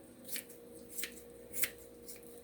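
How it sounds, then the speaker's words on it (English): Scissors snip through pork in four quiet, evenly spaced cuts over about two seconds, each a short crisp crunch against a steady low background hum. "I'm just going to use my scissors and cut right through there."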